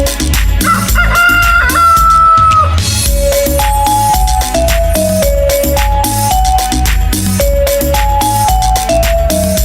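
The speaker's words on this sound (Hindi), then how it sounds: "मुझे मुर्गे ने जगाया, बोला कुकड़ू कू कू" A rooster's crow rings out over a bouncy, upbeat children's tune, followed by continuing melodic music.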